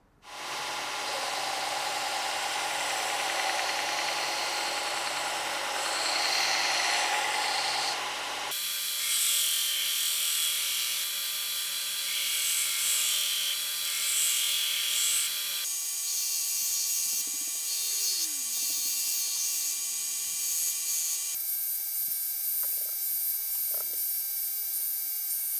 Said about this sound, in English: I'm going to be shaping the bridge now by doing a contour across the top and then thinning down the wings.